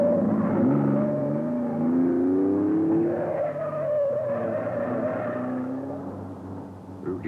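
A rally car in the 1971 Circuit of Ireland revs hard and skids, its engine note rising and falling over a sustained tyre scrabble, loud and fairly close throughout.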